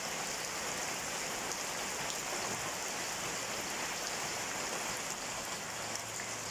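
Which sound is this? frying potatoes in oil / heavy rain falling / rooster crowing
heavy rain falling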